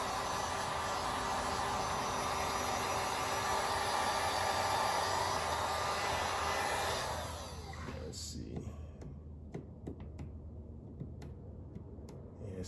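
A heat gun on its low setting blows steadily while warming a part on a Honda Civic Si, a continuous broadband hiss that holds loud and even, then drops off sharply partway through to a quieter background with faint ticks.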